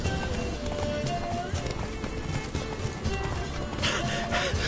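Geralt's horse Roach from The Witcher 3 gallops with a steady clip-clop of hooves, close and continuous beneath game music and ambience.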